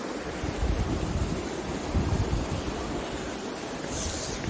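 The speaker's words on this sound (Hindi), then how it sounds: "अब वहाँ पे आपको दिख रहा होगा ये पानी जा रहा है, ये सोर्स है लेक का।" Water flowing out at the source of a lake near Mussoorie and Kanatal in Uttarakhand, a steady rushing wash that stays broad and continuous throughout, mixed with wind buffeting the microphone and no voices.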